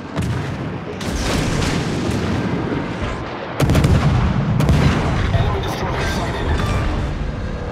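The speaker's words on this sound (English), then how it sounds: "Destroyer blown up." Naval combat in World of Warships as a destroyer is blown up: a loud, continuous roar of gunfire and heavy booms, with a sharper blast surge around the middle and rumbling sustained throughout.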